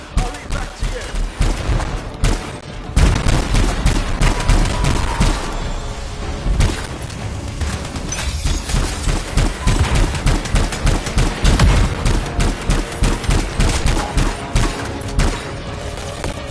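Sustained rapid gunfire from enemies shooting at the Strider in the game Anthem, dense crackling bursts continuing almost without pause, loud and close, with voices talking underneath.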